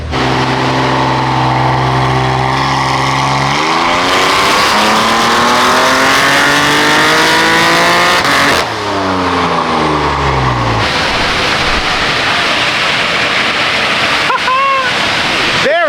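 A BMW M4 Competition on a dyno, hood open, roars through a long full-throttle power run, pitch climbing through several gears with sharp shift breaks, loud and close, ending in falling revs and a few pops.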